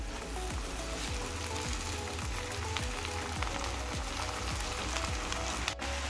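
Washed fenugreek leaves (methi) fry with moong dal in a pan, giving a close, continuous crackling sizzle with small pops throughout and a brief clatter near the end.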